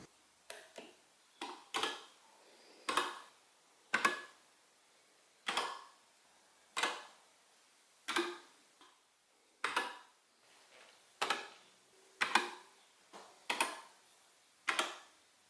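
Regular sharp clicks repeat at an even pace, roughly one per second, each a crisp tick with a brief ring, in an otherwise quiet room.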